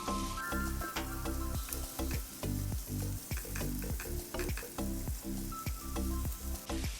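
Finely chopped garlic sizzles in hot oil in a pan for tofu chilli, a loud continuous frying hiss broken by repeated rhythmic scrapes and clatters as it is stirred, with no talking.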